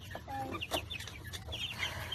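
Local free-range chickens outdoors, clucking softly and intermittently at a distance, a faint scattered chatter of short calls over quiet ambient background.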